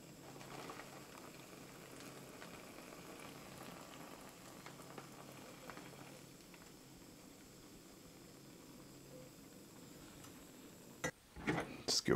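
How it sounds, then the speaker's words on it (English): Water boiling in a pot on a stove, a faint, steady bubbling simmer that runs throughout, ending with a few sharp clatters of cookware. "All right, water is boiling."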